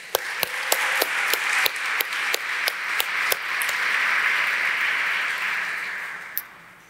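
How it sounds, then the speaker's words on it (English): An audience at an AI symposium claps. About a dozen sharp claps ring out at a steady rhythm, then swell into a broad wash of applause that fades out near the end. "Round of applause for everybody."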